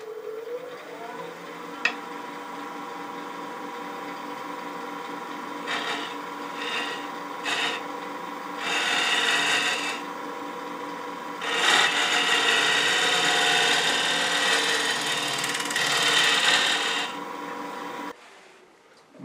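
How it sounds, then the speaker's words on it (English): A scraper cutting into a spinning wooden vase on a woodturning lathe, a continuous loud rasping scrape with surging, uneven passes that stop abruptly near the end. "I'm going to take that out with a scraper"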